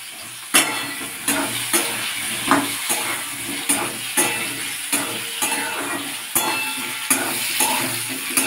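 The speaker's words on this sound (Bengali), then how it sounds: "ভাজা হয়ে গেছে, লাল লাল করে দেখতেই পাচ্ছি, বেশ ভালো করে ভাজা হয়ে গেছে।" Sago khichri ingredients, lentils and beans fry in a pan and are stirred steadily, with a constant sizzle and regular scraping knocks of the spoon every second or so, close and fairly loud.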